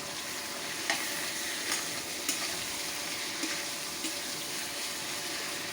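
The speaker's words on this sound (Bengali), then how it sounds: "আদা বাটা, রসুন বাটা, জিরা বাটা, হলুদ, মরিচ গুঁড়া, কাঁচামরিচ, সামান্য একটু গরম মশলা গুঁড়া, সব দিয়ে আমি সুন্দর করে এটা ভাজা ভাজা করে নেব।" Ginger, garlic and cumin pastes with turmeric, chili powder, green chilies and garam masala fry for a prawn curry, sending up a soft, even sizzle broken by several light scrapes of stirring, with nobody speaking.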